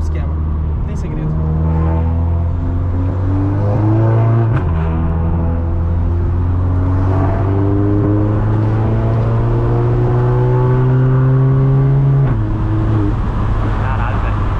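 An Audi with an automatic gearbox and manual mode, taken on a test drive, revs hard under acceleration, its close, loud engine note climbing and dropping between gear changes.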